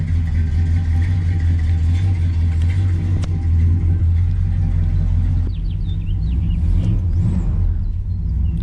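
A Plymouth Fury III with a 440 engine fitted with a potato cam drives along, its low, steady engine rumble and road noise continuous throughout, with a brief squeal of higher sounds near the end.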